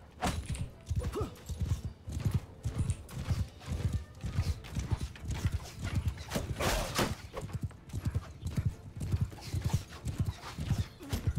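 Horse hooves gallop in Mount & Blade II: Bannerlord, a steady, loud clip-clop rhythm of mounted troops running through the whole stretch, with battle noise and an occasional whinny mixed in.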